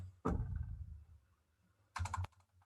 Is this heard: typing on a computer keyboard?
yes